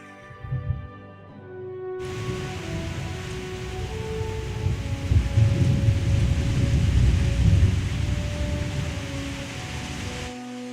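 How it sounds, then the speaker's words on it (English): Heavy rain and a thunderstorm outside a room, rising from a quiet start into a dense, steady roar that swells and rumbles for several seconds before cutting off near the end, with a faint tonal hum underneath. "And now the rain's picking up again."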